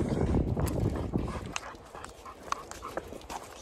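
A dog sniffs and pants close by outdoors, producing a continuous rough breathy texture with a few faint whimpers and no clear barking.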